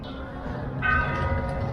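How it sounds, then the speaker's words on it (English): A church bell in Morelia, Mexico rings out partway through, its tone sustained over a low rumbling background, distant rather than close. "Nice timing with the church bells."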